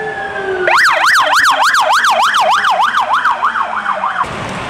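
A loud wailing siren rises and falls rapidly from an ambulance driving in a National Day parade in Singapore, close by and fading slightly at the end.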